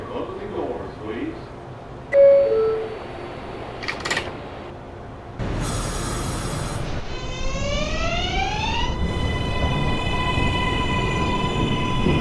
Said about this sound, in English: Train. Approaching the station. Please stand away from the platform edge.